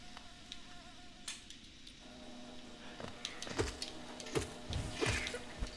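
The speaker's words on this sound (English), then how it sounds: "I know the bees are making, like, a droning noise" Bees in the Hollow Knight hive area drone steadily throughout, a continuous buzzing backdrop with light game clicks and thuds scattered over it, growing a bit busier toward the end.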